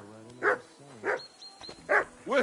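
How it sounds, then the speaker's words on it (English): A dog barks in the medieval village world of Kingdom Come: Deliverance 2, four sharp, evenly spaced barks close by, over a steady low background hum of the game's ambience. "Get that mutt of yours to stop barking, will you?"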